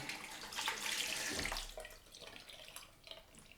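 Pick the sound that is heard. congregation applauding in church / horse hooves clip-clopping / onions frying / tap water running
tap water running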